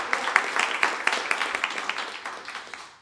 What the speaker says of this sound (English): how about one more round of applause for Jennifer Alvarado